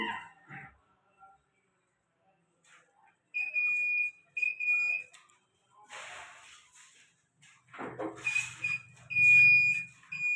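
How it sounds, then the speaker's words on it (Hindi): A soap making machine's buzzer sounds during its power supply check with a few short, clear electronic beeps in separate bursts. Faint clicks and handling noise fall between them. "ये बजर दे रही है। ये क्या कर रही है? ये मशीन पूरी पावर सप्लाई को पहले चेक कर रही है"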